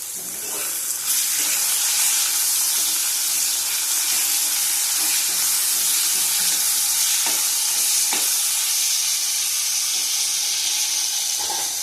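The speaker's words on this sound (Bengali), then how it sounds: "ভাজা হয়ে গেছে, দিয়ে দেবো বেগুন।" Eggplant pieces fry alongside fried pabda fish in a hot pan, giving a loud, continuous, close-up sizzle with faint stirring clinks scattered through it.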